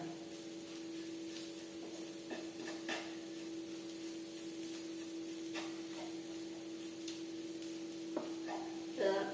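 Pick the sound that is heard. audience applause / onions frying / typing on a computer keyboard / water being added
onions frying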